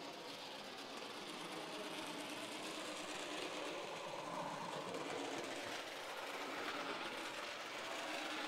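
A Bachmann HO scale model of the 1831 DeWitt Clinton train runs along its track with a steady, close, continuous whirring rumble that holds level throughout.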